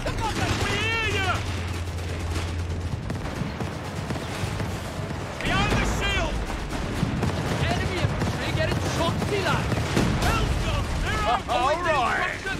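Gunfire rattles through a World War II battle in Company of Heroes 3, with bursts of shots under shouting soldiers and radio-style voice lines, mixed with vehicle rumble and explosions.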